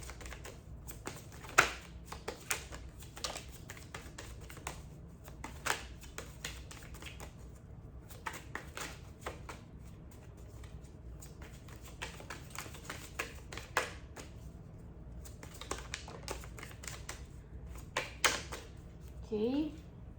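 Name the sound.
shuffling tarot cards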